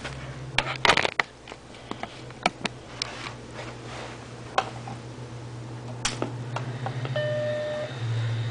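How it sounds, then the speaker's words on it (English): An Apple Macintosh Classic SE FDHD computer running on AC power gives a short, clean electronic startup chime near the end, after a few sharp switch clicks over a steady low mains hum. "Yep, classic chime there."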